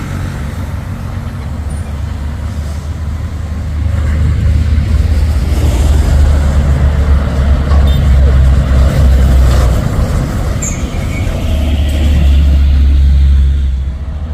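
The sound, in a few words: orange Fuso 220 PS trucks driving past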